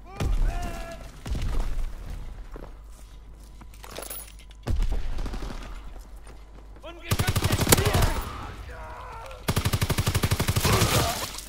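Rapid automatic gunfire bursts from the World War II shooter Call of Duty: WWII, loud sustained volleys interrupted by sharp single shots and impacts, with a voice talking in between.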